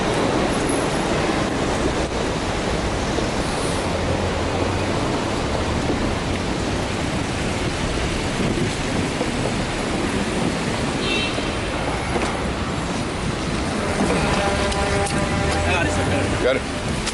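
Rain falls on a city street in a steady, dense hiss that fills the whole stretch without pause, fairly loud and close.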